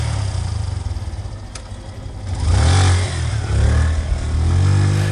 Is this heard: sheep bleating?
no